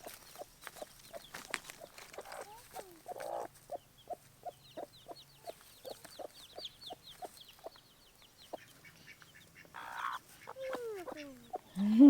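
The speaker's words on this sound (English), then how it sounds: "So let's feed the chickens." Chickens clucking in short repeated bursts, with a few higher squawks and calls mixed in, fairly close and continuous throughout.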